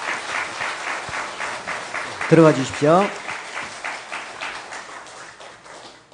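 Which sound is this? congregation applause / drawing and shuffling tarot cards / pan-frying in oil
congregation applause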